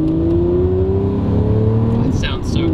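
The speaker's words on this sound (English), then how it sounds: "the howl of a big Lambo V12 is as good as it gets" A Lamborghini Murcielago SV's V12 engine howls loudly and continuously, its tone rising steadily as the revs climb, with voices talking over it inside the car.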